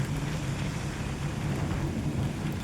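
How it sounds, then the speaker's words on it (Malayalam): Light drizzling rain falls during a misty drive, a steady even hiss of fine rain over a low vehicle rumble. It stays continuous and fairly close, with no voices. "ചാറ്റൽ മഴകളും ഇങ്ങനെ ഉണ്ട്."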